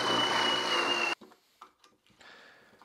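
A Forstner bit drills a shallow recess into wood, a loud, steady whining buzz that runs for about a second and then stops suddenly, followed by quiet clatter and handling noises.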